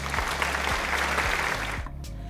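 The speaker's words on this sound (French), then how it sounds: "on peut s'applaudir." Brief burst of clapping applause, dense and steady, fading out near the end.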